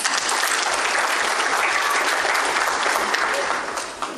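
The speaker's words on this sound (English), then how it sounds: "Let's all give a round of applause." Sustained applause from an audience at an Indian American nurses association event in North Texas, dense and steady throughout before tapering slightly at the end.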